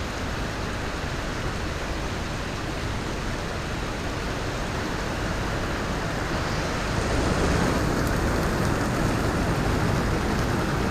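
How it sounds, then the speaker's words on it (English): Steady rain falls at a koi farm, a dense, even hiss of broadband patter that swells slightly louder toward the end, with no voices. "It's definitely raining."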